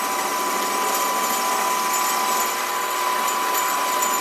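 A SIEG 7x14 mini lathe cuts a bevel, its motor running at a steady, loud whine with a constant tonal hum and no pauses, alone without talk.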